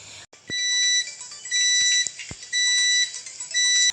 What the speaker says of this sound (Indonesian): buzzer 5 volt lebih soft, sedangkan 3 volt lebih melengking.